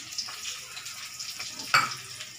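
Whole spices sizzle in hot oil in a pan for fish curry: cloves, bay leaves, dried chillies and five-spice seeds, a soft steady crackle with a sharper spitting pop partway through.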